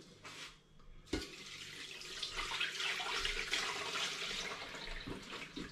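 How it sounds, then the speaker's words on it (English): Liquid for homemade elderflower and rhubarb sparkling wine pours in a steady, splashing stream into a vessel of tea bags and fruit, running for several seconds at close range. "And now let's have the big dramatic pour."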